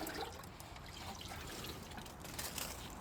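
Liquid poured onto garden soil around an onion plant outdoors, a steady soft trickle and splash running continuously at low level with no talk.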